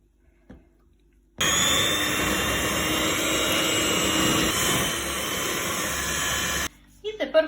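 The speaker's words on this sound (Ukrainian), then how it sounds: "До сиру додаємо заварний крем і збиваємо до однорідності" Electric mixer beating cheese with custard cream for a Volcano cake, a steady loud whirring drone running for about five seconds, with brief sounds before it starts and after it stops.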